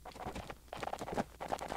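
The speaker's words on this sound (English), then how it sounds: "You hear that? Horse hooves?" Centaur hoofbeats in the video game Tomb Raider Gold, a quick, quiet clatter of hooves in uneven rhythm, like galloping heard from a distance, with no voice over them.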